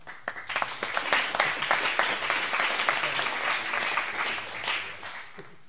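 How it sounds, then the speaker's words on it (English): A round of applause from the audience at a virtual reality meetup at Hacker Dojo, starting with a few scattered claps and swelling into sustained, even clapping before tapering slightly. "Let's give them a round of applause."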